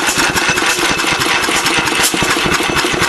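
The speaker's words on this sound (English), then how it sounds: "strange backfires" Bessemer engine on its first run, a loud continuous chugging roar with irregular sharp pops and bangs through a quiet muffler, close and steady with no pauses.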